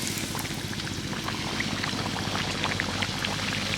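A potato and wheat flour snack deep-frying in oil, a dense, even bubbling crackle full of tiny pops, like rain, continuing steadily and close with no talking.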